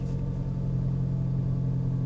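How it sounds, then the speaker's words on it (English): A Ford car's engine idling cold just after startup with a newly fitted Ford Performance exhaust and rear motor mount, giving a steady, close, low rumble with a constant hum and no talk. "this is the first time with me starting up the car after the exhaust and rear motor mount is going to be installed"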